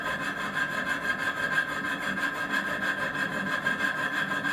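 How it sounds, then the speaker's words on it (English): A fret saw fitted with a metal-cutting blade works through a model glow-engine exhaust spacer for a Merco 61 muffler, giving a steady, close, continuous rasping stroke rhythm with no talking. "I'm just using a fret saw with a metal blade to cut out between the holes before I actually file the channel to shape"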